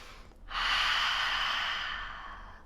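Slow, deep breath drawn and released during a seated yoga twist, a single long airy exhale swelling then fading, close and soft with no talking.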